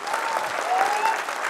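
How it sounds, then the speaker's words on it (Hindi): An audience in a hall at a business felicitation event claps together in steady, dense applause, close and even for a short burst. "ताली मारिए अपने लिए"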